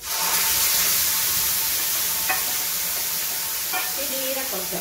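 Ground coconut paste with a little rice water poured into a hot pan for bitter gourd kichadi, producing a loud, steady, close sizzle and hiss with occasional light clinks of a utensil.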